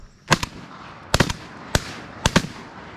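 Shotgun blasts ring out during an opening-day duck hunt in New Jersey: four sharp shots, several coming as quick doubles, loud and close over a quiet outdoor background.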